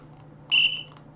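A sharp electronic whistle tone from a chess program rings out once, about a quarter second long and fairly loud, as it refuses an illegal castling move, with a faint trailing blip and quiet room hum around it.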